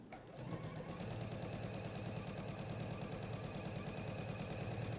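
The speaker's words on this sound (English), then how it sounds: "run some top stitching around this. Now you need to pivot your machine round" A sewing machine runs top stitching along fabric for a children's pinafore dress, a fast, even, continuous rattle of stitches heard up close from start to finish.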